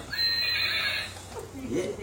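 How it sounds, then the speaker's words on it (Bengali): A toy horse gives a bright electronic neigh that rises and wavers for about a second, followed by a voice and a short bit of nearby talk. "ঘোড়া ডাকে"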